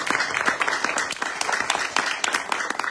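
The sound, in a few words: applause for the organizers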